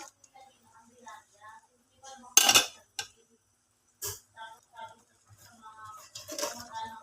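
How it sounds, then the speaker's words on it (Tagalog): String beans and sweet potato leaves go into a pot of sinigang with tanigue, giving a few sharp clatters and rustles against the pot amid quiet kitchen clinks, with a soft voice talking between them. "nilagay ko na yung ating sitaw at talbos ng kamote"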